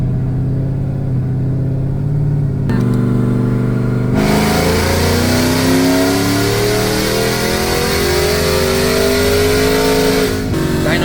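A supercharged GMC Sierra truck roars through its gears on a dyno, its engine climbing in pitch with each gear and the supercharger whining loudly and steadily throughout.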